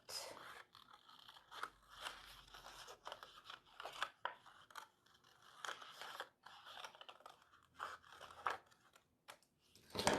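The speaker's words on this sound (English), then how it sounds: "to show you how I might use scissors to cut." Snipping scissors cut through paper in repeated short crunches and scrapes, close and fairly quiet, with uneven pauses between cuts.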